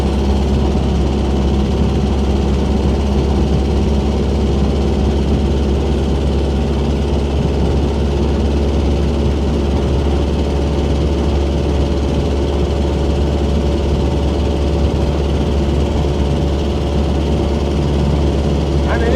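A 1928 Ford Model A Sport Coupe engine drones steadily while the car cruises down the road, a continuous low rumble with engine vibration held at an even level throughout, no talking over it.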